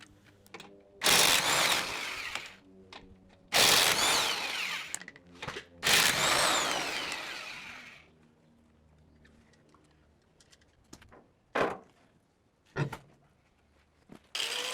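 An angle grinder cuts through the spot welds of a car body behind the fender with the tire off. Three loud, grinding bursts of several seconds each are followed by shorter bursts and clatter, and there is no speech.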